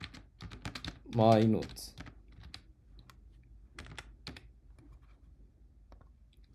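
Computer keyboard typing a short note on a Mac, with quick soft key clicks in scattered bursts, close and quiet, and someone speaking briefly near the start.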